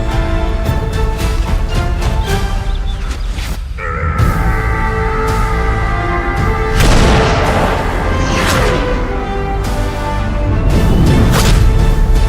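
Booming gunshot effects punch through a comedy sketch, a few heavy blasts and whooshing impacts landing over a dense, loud backdrop of music and effects, with no speech.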